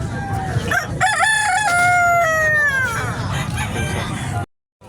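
A rooster at a rural animal market in San Carlos, Pangasinan lets out one long, loud crow that rises then trails off, over murmuring market noise before cutting to silence.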